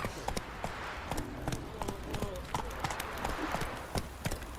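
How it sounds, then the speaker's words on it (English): A horse gallops in The Witcher 3: Wild Hunt, its quick rhythmic hoofbeats clip-clopping steadily at close range over game ambience, with a voice speaking briefly. "Run, Roach."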